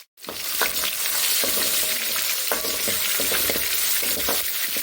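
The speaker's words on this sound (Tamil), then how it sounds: "ஒரு கொத்து கருவேப்பிலை ஒரு தக்காளி பழம் கொஞ்சமாக வெங்காயம் இது சேர்த்துக்கலாம் சேர்த்துட்டு இப்போ நல்லா நம்ம மிக்ஸ் பண்ணி விட்டுக்கலாம்" Curry leaves, tomato and onion sautéing in oil for a Tamil fish curry give a loud, continuous close sizzle, with regular stirring clinks and scrapes throughout. No one speaks.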